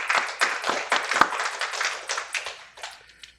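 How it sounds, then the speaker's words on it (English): An audience at a panel talk claps to welcome a guest author to the stage, with distinct, fairly close hand claps that start lively and gradually thin out and fade. "Please help me welcome, with a warm round of applause, Mr."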